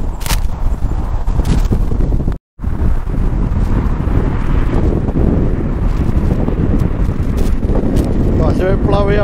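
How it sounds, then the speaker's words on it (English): Strong wind buffets the microphone on a riverside bridge, a loud continuous roar with brief gusting shifts and one short dropout, while someone talks underneath. "A bit blowy up here on the bridge. I'm not sure if you'll be able to hear my voice over the wind."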